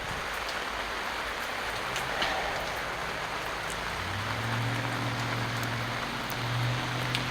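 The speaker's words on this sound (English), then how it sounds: "I mean, it could rain just a little bit harder." Rain falling during outdoor brake and tire work on a Freightliner FLD truck, a steady hiss of drops with a few sharp taps, and a low engine-like drone entering midway.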